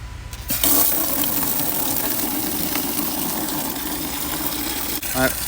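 Water from a Meross smart sprinkler timer pouring steadily into a bucket, a loud continuous rushing gush with no pauses, a brief clunk near the end.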